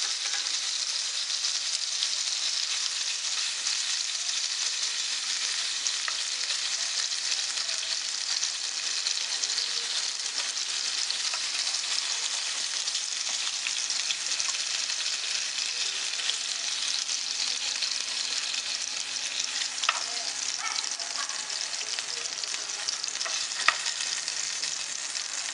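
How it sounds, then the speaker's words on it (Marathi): Pomfret fish fries in oil in a pan, giving a loud, steady, dense sizzle that runs unbroken throughout, with a few faint pops near the end and no voices. "अशाच पद्धतीने आपण बाकीची फ्राय पण करून घेणार आहोत।"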